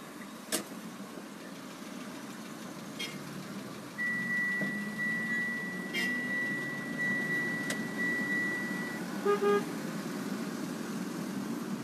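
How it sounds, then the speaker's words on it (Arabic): Steady road traffic rumbles through a busy Nasr City street in Cairo, with one sustained car horn blaring for several seconds midway and a few short toots and engine noises around it. "دي زحمة في الشوارع والدنيا جميلة جدا يعني"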